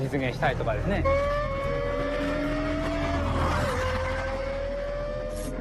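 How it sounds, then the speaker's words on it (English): A high-revving V10 engine of a Lexus LFA supercar screams steadily, its pitch climbing and holding with a slight dip near the end, loud and close throughout. "Only a high-revving V10 engine supplies this combination of power and sound"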